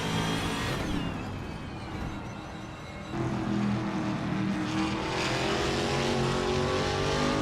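A 2021 Ford Mustang race car in the Trans Am class roars steadily in a racing video game, its engine note climbing and shifting as it holds pace, loud and continuous throughout.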